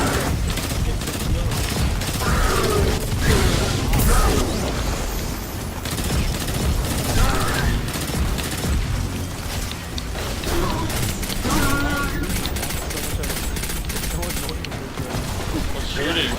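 Continuous gunfire in the video game Destiny 2, dense rapid bursts layered with booms and mechanical clatter that run the whole time under excited talking.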